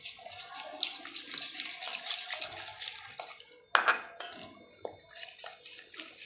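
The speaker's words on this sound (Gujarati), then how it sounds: "હવે આપણે એમાં પાણી નાખીશું।" Water is poured slowly into a chutney being stirred in a bowl, with clinking of utensils and a spoon against the dish mixed into the steady trickle, close up.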